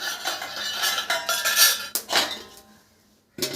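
A metal spoon scrapes and clinks against a pot as payasam is stirred. Busy, close scraping comes in bursts, then a short near-silent pause before another clatter starts.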